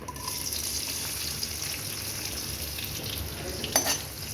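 Small shallots fry in a pan with dal and asafoetida, giving a steady, close sizzle that runs throughout, with a couple of brief utensil scrapes near the end.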